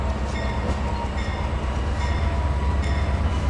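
A train rolls along in the Trainz 2022 railroad simulator, giving a steady, continuous rumble with faint rhythmic clatter and no voices.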